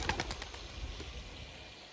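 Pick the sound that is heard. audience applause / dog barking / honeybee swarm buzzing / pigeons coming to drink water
pigeons coming to drink water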